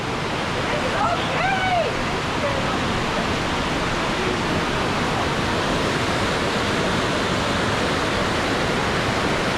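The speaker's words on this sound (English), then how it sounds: "This is a river flowing." A river rushes steadily near a covered bridge on a hike to Vickery Falls, a loud, constant wash of flowing water that fills the whole stretch, with a brief bird call rising above it near the start.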